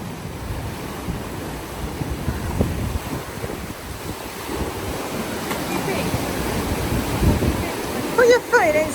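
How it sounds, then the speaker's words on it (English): Strong ocean waves crash on a Zanzibar beach in a loud, continuous roar with wind buffeting the microphone, and voices are briefly heard near the end. "It's quite hard, the waves."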